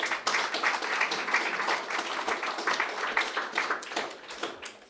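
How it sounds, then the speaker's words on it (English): Lively round of applause from a lecture audience, many hands clapping with distinct individual claps audible in a steady, moderately loud wash that eases off at the end. "Please, can you give them a round of applause?"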